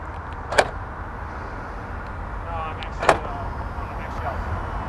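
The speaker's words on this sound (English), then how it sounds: "the sound of its door, and the sound not only of the door but the lock" A 2021 Mercedes G63 AMG door and lock working, two sharp mechanical clunks about two and a half seconds apart over a low steady background hum, close and fairly loud.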